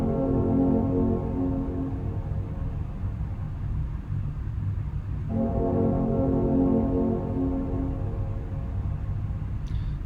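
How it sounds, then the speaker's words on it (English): A Mac computer's startup chime rings out as a deep, sustained harmonic chord, heavily drawn out into an eerie drone that swells alone, fades briefly, then starts again halfway through. "what an actual Mac startup sound is like"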